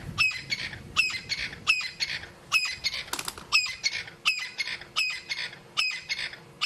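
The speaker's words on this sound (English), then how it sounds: "That is a crested Franklin making all of that noise" A crested francolin calls on safari in a loud, rhythmic series of harsh, scratchy squawks repeated roughly every half second, close and unbroken, with no talking.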